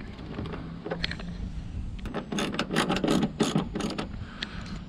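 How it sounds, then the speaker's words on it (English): A ratchet wrench with an extension and 7mm socket clicks and rattles while backing out a bumper cover bolt on a 2014 Chevrolet Silverado, a burst of rapid close clicks after quieter handling. "to take this upper bumper cover off, you just need to take this bolt out and this one up here"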